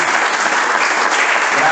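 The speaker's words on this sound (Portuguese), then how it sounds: "dê uma salva de palmas bem alegre para Jesus" A church congregation claps for Jesus in a joyful round of applause, a loud, dense, continuous patter of many hands.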